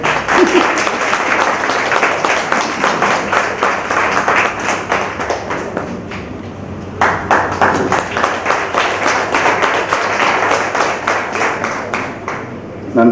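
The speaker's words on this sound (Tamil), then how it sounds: "கரகோஷங்கள்" Close, loud applause fills a teachers' felicitation ceremony at an alumni event, with dense rapid clapping from the crowd. It dips briefly midway, then resumes just as strong.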